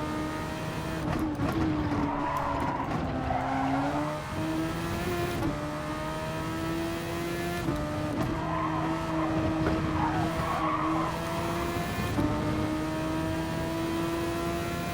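A race car in Gran Turismo on soft tires oversteers, its engine whining steadily while the tires squeal in repeated long skids, loud and close throughout.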